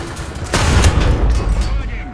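A single heavy tank cannon shot in War Thunder, a loud deep boom that lands abruptly and rumbles on for about a second and a half before fading.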